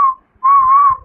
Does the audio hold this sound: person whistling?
yes